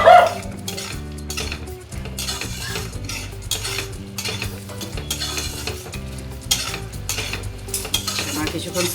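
Chilli paneer stir-fried in a pan, with steady scraping and clinking of a utensil against the metal over a continuous sizzle, close and fairly loud throughout, with tonal background sound underneath.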